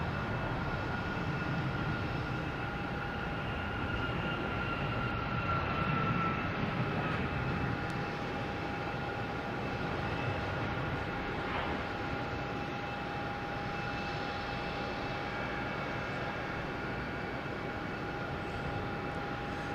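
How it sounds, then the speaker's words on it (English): A United Airlines Boeing 737 MAX 9 takes off from Boston Logan, bound for San Francisco, its steady jet roar holding loud and continuous throughout with no voices. "we have United Airlines taking off, heading to San Francisco."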